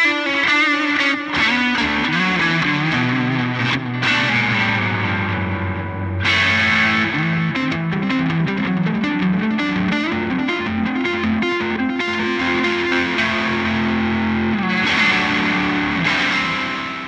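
Electric guitar played through an MXR Echoplex delay pedal, strumming chords and picking riffs with repeating echoes trailing each note, loud and continuous throughout with no speech.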